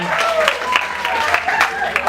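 An audience at a West Coast Swing Jack & Jill dance competition claps for a dancing couple, a short burst of scattered hand claps under a voice talking over a microphone.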